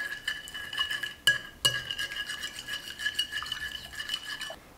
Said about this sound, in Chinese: 把鸡蛋搅拌均匀。